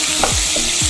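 Beef and tomato sauce stirred in a pot over low heat, with a few scraping sweeps of the spoon against the pot over a steady, soft sizzle.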